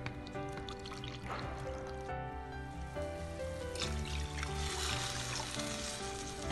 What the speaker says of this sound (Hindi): इसके अंदर 2 कप पानी डाली मैंने।